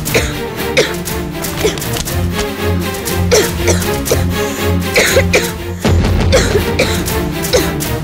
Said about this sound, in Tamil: ஏன் இப்படி இருமுற?